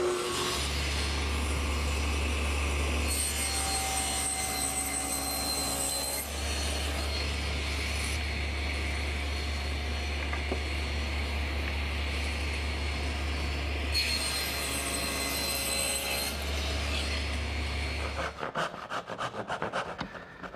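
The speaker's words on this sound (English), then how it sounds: "I'm going to use my tenon attachment for the table saw" A table saw with a tenon attachment on the miter gauge cuts the sides of a tenon, giving off a loud, steady motor drone with a higher whine while it cuts. The saw winds down near the end.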